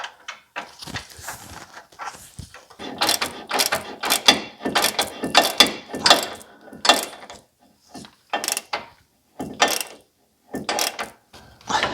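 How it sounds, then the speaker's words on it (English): A cap on a BMW electric power steering unit is tightened with a ratchet, giving close, loud bursts of rapid clicking in irregular runs separated by short pauses. "now I will start to tighten this cap"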